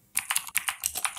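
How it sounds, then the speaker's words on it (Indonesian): Keystrokes from Mechvibes software emulating a mechanical keyboard, typed into Notepad: about ten sharp, bright clicks in a quick uneven run, close and alone. "kita akan coba ngetik halo semuanya gitu"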